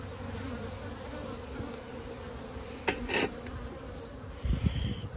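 Honey bees buzz steadily from an opened winter beehive with capped brood, a soft continuous drone near and low, with a few louder passes as bees fly close.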